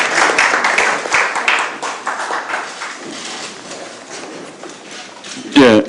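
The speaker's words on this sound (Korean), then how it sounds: "여러분 박수 한번 해주십시오" An audience at a political reform forum applauding an honored guest, brisk clapping close by that thins out over several seconds, with a voice speaking near the end.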